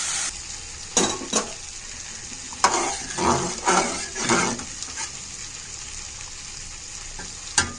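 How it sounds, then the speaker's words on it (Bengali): Spices sautéing in oil in a pan, with intermittent scraping and stirring strokes over a low continuous sizzle, several bursts close by and fairly loud. "এখানে যেমন এটা কষাচ্ছি"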